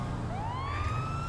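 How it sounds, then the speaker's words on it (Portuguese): Police car siren in the GTA V video game wails with a rising, sustained electronic tone, steady and fairly loud over a low rumbling game background with no talk. "Pode ligar a sirene não?"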